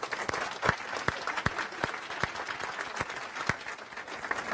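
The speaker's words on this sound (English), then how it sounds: "Please join me in giving them a round of applause." Audience applause for a conference panel: steady crowd clapping with several sharp, distinct nearby claps standing out, sustained throughout.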